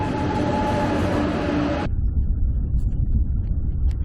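An SRT high-speed train on a morning run from Pyeongtaek-Jije to Mokpo rumbles steadily. A loud broadband roar drops abruptly about halfway through to a lower, muffled rolling rumble with faint clicks.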